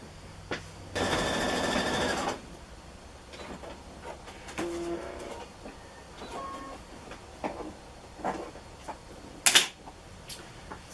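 A sewing machine stitching a jeans apron made from denim, with a loud continuous burst of whirring stitching for about a second, followed by quieter clicks, fabric handling and a sharp clack near the end, close by.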